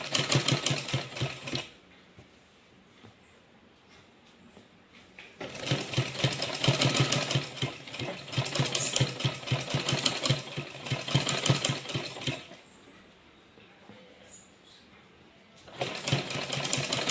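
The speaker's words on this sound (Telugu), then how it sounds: "దీని కింద నుంచి స్టిచ్ చేసుకోవాలి ఫ్రెండ్స్" A tailor's sewing machine stitches cloth in three bursts of rapid, rattling mechanical stitching, with quiet pauses between runs and no talk.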